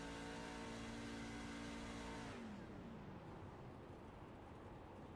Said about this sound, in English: he's got the clutch pushed all the way in on quarter entry, so Ryan Decker may be close on fuel.